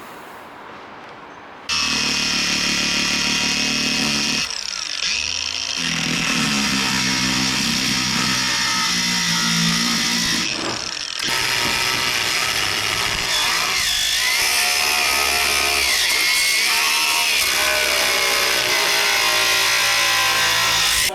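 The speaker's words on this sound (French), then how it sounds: "Maintenant, je vais m'attaquer à la découpe du haut de l'aile." A power tool cuts through the upper rear wing panel of a bent BMW E36, starting after a brief quieter moment and then grinding loudly and steadily, close up, for the rest of the clip with small dips and shifts in pitch.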